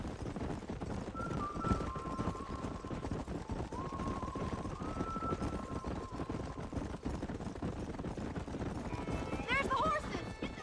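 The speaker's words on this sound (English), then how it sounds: "There's the horses!" Horses' hooves clip-clop steadily through a Red Dead Redemption game scene as the horses are rounded up, with ambient noise and game music tones over the hoofbeats.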